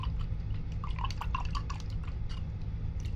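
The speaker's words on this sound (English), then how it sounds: "I'm going to rinse my brush." A paintbrush being rinsed in water during painting, giving faint, quiet splashes and a few small drips over a low background hum.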